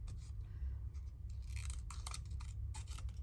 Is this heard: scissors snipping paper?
yes